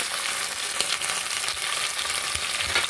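Ginger garlic paste frying in oil with browned onions for a spicy Andhra-style chicken curry, a dense steady hiss of sizzling with faint stirring taps, close and without talk.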